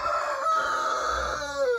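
A rooster crows once in a village, a loud drawn-out call that rises and then trails off at the end.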